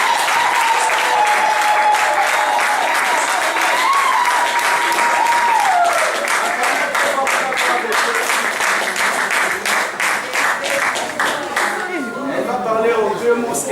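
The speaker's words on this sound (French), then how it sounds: "nous allons acclamer très fort" A church congregation bursts into loud, sustained applause and cheering, with dense rhythmic clapping under a held vocal tone and shouts that slowly thin out toward the end.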